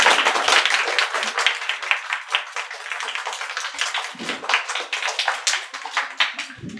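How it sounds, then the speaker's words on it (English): A crowd claps steadily for several seconds, a dense, sustained round of applause at moderate volume with no voices over it. "one round of applause for Yahya and Yahya."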